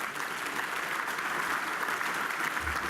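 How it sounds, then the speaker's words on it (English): A dinner crowd at an award event claps steadily, a close and unbroken wash of applause with no talk over it. "That deserves a big round of applause."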